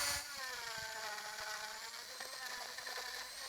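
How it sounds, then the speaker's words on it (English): A power tool grinds rotten, decomposed wood from the trunk of a Japanese maple bonsai, giving a steady high whine that carries throughout. "it's really important that we grind away all of the decomposed tissue"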